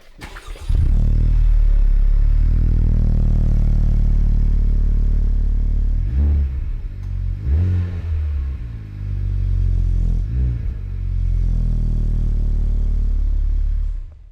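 A Honda Civic Type R sports car engine, started cold, idles steadily and loudly up close, with a low, uneven burble that swells a few times in short surges.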